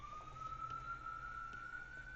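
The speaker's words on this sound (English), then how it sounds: "Oh, sirens," A police or emergency vehicle siren sounds outside, a faint, steady, wavering wail held throughout beneath a quiet background.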